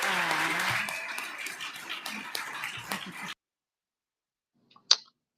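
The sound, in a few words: applause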